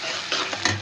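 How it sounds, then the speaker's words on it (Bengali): Onion dropped into hot oil in a kadai, a brief burst of sizzling with a couple of quick stirring scrapes. "তেল গরম হয়ে গেছে, পেঁয়াজ, বিসমিল্লাহ।"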